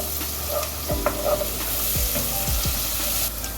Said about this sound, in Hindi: लहसुन अदरक पेस्ट के साथ अब इसको भून लें